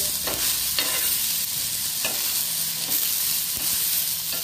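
Garlic, green chillies and coriander sizzle steadily in a pan while a spoon stirs them in a few scraping strokes, the frying hiss continuous and close with no talk.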